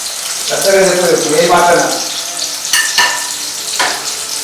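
Onions, green chillies and tomato frying in a pan for chicken fry, a loud wet sizzle with stirring and some watery, tonal sputtering, heard close with no talk.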